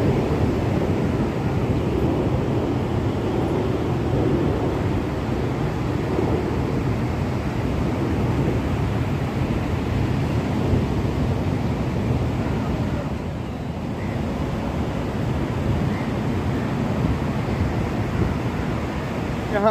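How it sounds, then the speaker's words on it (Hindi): Ocean surf and wind at Juhu Beach in Mumbai, a continuous broad roar of breaking waves with steady wind buffeting the microphone, loud and unbroken throughout. "ये जो हवा है, ये जो लहरें हैं, कुछ तो कहती हैं"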